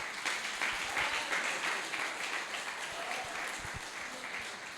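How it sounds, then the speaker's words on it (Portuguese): A church congregation claps together during a worship service, a full, sustained round of applause with a few louder individual claps standing out near the end. "As palmas para o Senhor."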